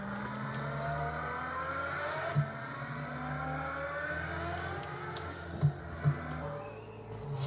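A red metallic Nissan GT-R Skyline in a racing video game accelerates hard, its engine note climbing steadily through the gears with a few brief clunks, loud and continuous with no voices.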